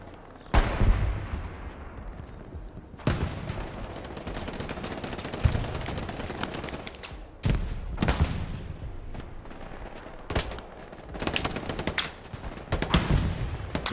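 Hell Let Loose competitive match on the Hürtgen Forest map: repeated loud gunshots and heavy artillery booms hit in bursts, sharp cracks each followed by a long decaying rumble, with steady battlefield din between them.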